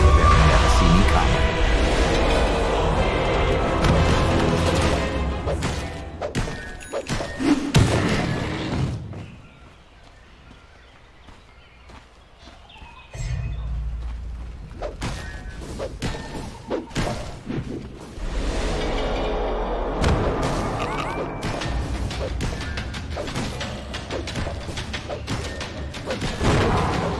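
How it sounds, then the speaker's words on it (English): A Dota 2 tower under attack takes repeated thuds, impacts and explosive bursts, loud and busy at the start and end with a quieter lull in the middle, with a voice talking over the action. "Dire's middle tower is under fire."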